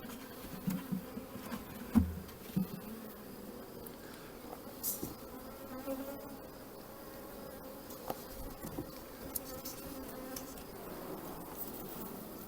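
Honeybees buzz around an open hive, a soft, steady insect drone with individual bees whirring past up close, plus occasional faint knocks and handling sounds, and no speech.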